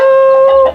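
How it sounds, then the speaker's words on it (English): A rooster in Thailand gives a short, loud, close crow, a sustained tonal call that cuts off abruptly, with no talking. "The roosters who I hear every morning."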